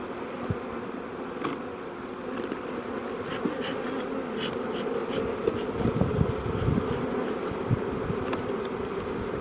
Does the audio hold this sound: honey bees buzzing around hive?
yes